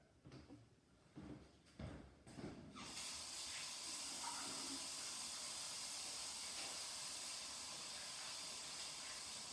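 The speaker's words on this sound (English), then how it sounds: "I'm going to wash my hands before I actually touch the batter" Hands being washed under a running kitchen tap before handling cookie dough: a few knocks and clunks at first, then a steady loud rush of water that runs on to the end.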